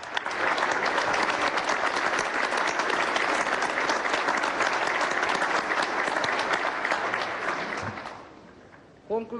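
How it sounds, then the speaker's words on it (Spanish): A large audience applauds the president of Bolivia at a summit gathering, dense and loud clapping sustained for around eight seconds before it fades quickly, followed by a brief bump of noise at the very end. "Aplausos para el presidente del Estado Plurinacional de Bolivia,"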